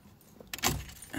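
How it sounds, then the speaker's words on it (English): Car key sliding into the ignition of a Camaro with no electronic key, a brief metallic jangle and scrape followed by a louder clunk as it seats, close up in a quiet cabin. "you just put the key in"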